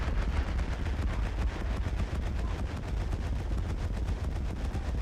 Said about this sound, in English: I just love hearing the sounds of multiple large caliber guns firing.